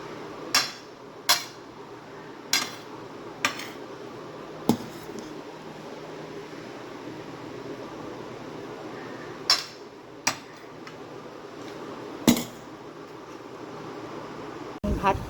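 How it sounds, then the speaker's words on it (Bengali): Cooked rice is served onto a plate, marked by scattered sharp clinks and taps of a metal utensil against the plate at irregular intervals over a quiet room background. "আমি ভাতটা বেড়ে দিচ্ছি।"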